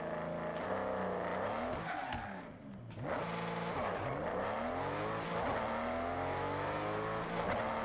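A car in the Forza Horizon racing game revving hard at full RPM for a clutch-dump launch, with a loud sustained engine wail that dips briefly and climbs again through rising gear sweeps.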